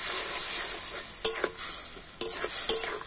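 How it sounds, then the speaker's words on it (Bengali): Spices with ginger paste and a splash of water stir-fried in a pan, giving a steady close sizzle with a few sharp utensil scrapes and clacks scattered through it. "তো জল দিয়ে সমস্ত মশলা একটু কষে নেব।"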